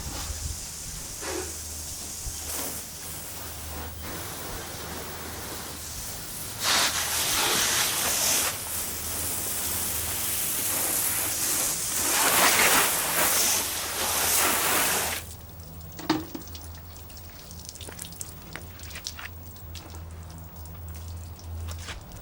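A steady hiss of water spraying over a car during a hand wash, broad and continuous for long stretches with louder bursts in the middle, then dropping off to a quieter background with occasional drips.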